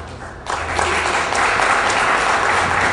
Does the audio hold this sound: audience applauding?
yes